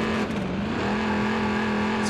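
A trophy car revs and drives off in Watch Dogs 2, a loud, sustained engine note that dips briefly, then climbs and holds steady, alone without speech.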